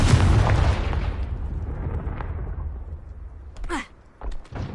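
A Confringo blasting spell detonates in the video game Hogwarts Legacy, a loud booming burst at the start that rumbles and decays over several seconds, followed by quieter magical crackles and whooshes.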